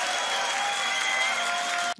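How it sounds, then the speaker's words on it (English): Dense audience applause at a beatbox battle semifinal, loud and steady for about two seconds before cutting off abruptly, with a faint crowd murmur underneath. "Give it a round of applause for B-Art as well"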